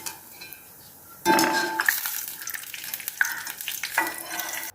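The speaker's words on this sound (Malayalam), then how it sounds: "തേങ്ങയൊക്കെ ഗോൾഡൻ ബ്രൗൺ കളറായിട്ടുണ്ട്" Grated coconut frying in a pan for traditional kalthappam, with stirring and scooping scrapes and light clinks against the pan; bursts of sizzle rise and fall in close, moderate bouts with no talking.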